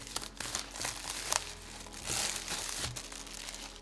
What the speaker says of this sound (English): Pull plastic out of the way.